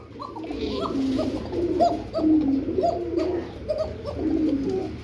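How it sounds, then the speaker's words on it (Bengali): Bombay pigeons kept for sale coo close by, several birds overlapping in repeated soft throaty coos over a low steady background hum. "এরাই তো আমার কথা বন্ধ করে দেয় ডাকিতে"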